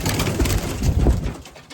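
A racing pigeon coos softly at close range, a few low throaty warbles over under two seconds, fading toward the end.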